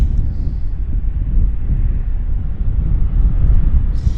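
An Airbus A330 airliner at Vancouver airport gives a steady, loud low roar of jet engines that swells slightly toward the end, mixed with wind buffeting and no voices.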